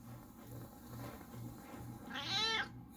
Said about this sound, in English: He follows me around and just meows when I'm here